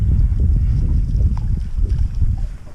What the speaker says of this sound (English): Wind come up.